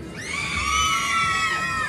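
Crowd of children screams loudly and continuously at a fairground witch train ride, a sustained high shrill wall of voices, close and full for the whole moment.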